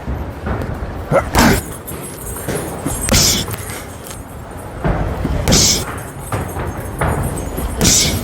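Left hook punches hit a punching bag in a gym in several sharp, heavy thuds spaced about two seconds apart, loud and close, with shuffling movement between them.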